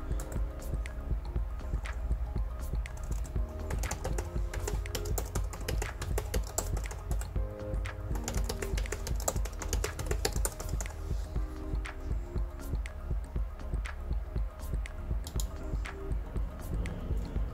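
A username being typed on a computer keyboard: a steady, fast run of close key clicks continues for the whole stretch over a low background hum, with no talking.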